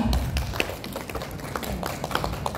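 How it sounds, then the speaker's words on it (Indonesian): Applause from an audience at a small business networking gathering, a busy spread of claps and taps filling the room, moderately loud and steady for a few seconds. "tepuk tangan untuk kita semua"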